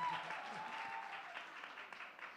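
Applause from a live comedy show audience at a festival, a soft, distant wash of clapping that holds steady without pauses.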